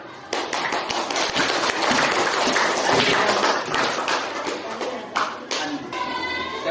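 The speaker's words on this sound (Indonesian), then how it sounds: "Tepuk tangan dulu." Audience in a classroom session clapping hands, a dense, fairly loud round of applause sustained for several seconds before thinning into scattered claps near the end.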